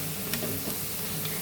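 Bitter gourd pieces sizzling in hot oil in a pan, a steady close crackle and hiss with a few small pops and light stirring clicks.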